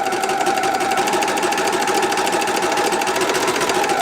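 A sewing machine stitches fabric in a continuous fast mechanical whir with a steady rapid needle clatter, close and even throughout, no voices.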